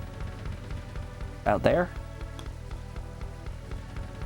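Rain falls steadily in the PS1 video game Hot Shots Golf, a soft continuous hiss in the background while a person briefly speaks over it.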